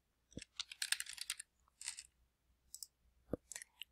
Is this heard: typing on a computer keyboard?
yes